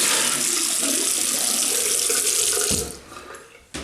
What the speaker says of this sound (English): Rinse the razor and then rinse my face.